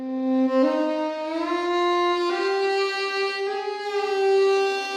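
An orchestral strings sample library plays with its default out-of-the-box settings, giving a smooth sustained line that steps up in pitch a few times, moderately loud and alone without speech.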